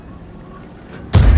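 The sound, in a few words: tank cannon shot in video game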